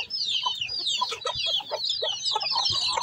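An injured Aseel rooster clucks in short, repeated calls, close and clear, over a constant high chorus of birds and faint background noise.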